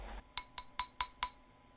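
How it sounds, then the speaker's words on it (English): Five crisp, bright clinks of glass tapping against glass, evenly spaced about a quarter second apart, close and fairly quiet, with nothing else heard around them. "Glass clinking glass."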